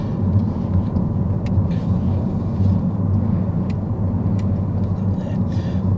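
Car driving on a Sunday afternoon, heard from inside the cabin: a steady low road and engine rumble that holds at an even level throughout, with no talking.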